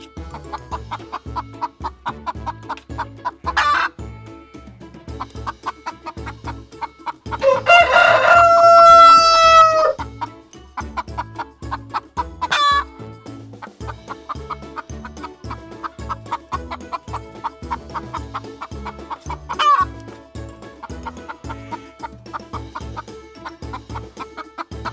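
Farm chickens cluck in a steady, busy rhythm while a rooster crows loudly once in a long drawn-out call, with shorter calls rising above the clucking now and then.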